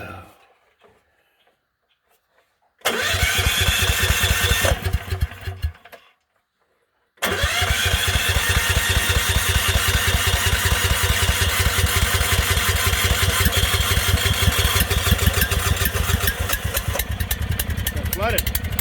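Kohler gas engine on an abandoned Miller Blue Star 185 DX welder generator cranks briefly and cuts out, then after a pause catches and runs with a rough, rapid, steady chugging close by.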